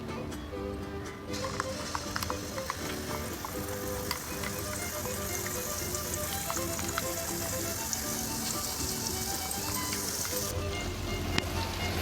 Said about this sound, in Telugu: ఈ పేస్ట్ని నూనెలో కొద్దిగా మగ్గించుకుందాం.